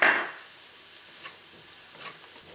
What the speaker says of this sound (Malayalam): ഈ മഞ്ഞൾപ്പൊടി എണ്ണയിൽ കിടന്ന് നന്നായിട്ട് മൊരിഞ്ഞിട്ടുണ്ട്